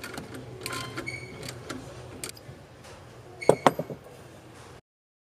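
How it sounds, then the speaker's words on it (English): A 15 millimeter socket wrench works loose the top alternator bolt on a 2008 Supra Launch SSV, giving scattered close metallic clicks and ratcheting taps with a louder cluster of clacks near the end, no speech. "Now I just gotta take the top one out with the 15 millimeter socket and then it should be good."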